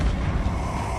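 A Confringo explosive spell in Hogwarts Legacy goes off with a loud, dense boom of rumbling, broadband blast noise that lasts about a second.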